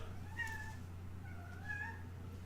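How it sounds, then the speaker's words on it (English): A domestic female cat meows twice indoors, each call drawn out and wavering, over a steady low electrical hum with no talking. "So you might hear our cat meowing."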